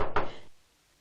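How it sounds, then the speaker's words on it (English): Two quick knocks on a door in an old house, close and fairly loud, followed by near silence. "There's someone at the door."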